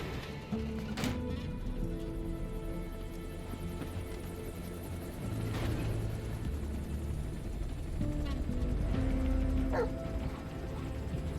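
D-Dog, the wolf-like companion in Metal Gear Solid 5, gives a few short barks and yips spread across the scene, with whimpers mixed into a busy game soundscape that includes engine-like droning.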